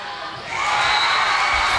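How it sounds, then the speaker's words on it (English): The high school cheering section in a gym during a boys' basketball game erupts into a loud roar of shouts and whoops, swelling after a brief moment and staying dense and close. "It's brought some new life to the Jackson High School cheering section."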